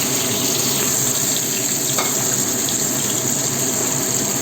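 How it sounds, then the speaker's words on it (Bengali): Chopped onion and tomato fry together in a hot pan, giving a loud, steady sizzle with a continuous hiss throughout, close by and without talking. "এবার পেঁয়াজ দিচ্ছি। টমেটো কুচি, পেঁয়াজ কুচি একটা করে একসাথে"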